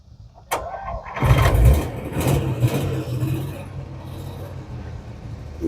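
A 1948 Chrysler Windsor sedan engine cranks after a click and catches on its push button start, revving loudly up close before settling into a steady idle.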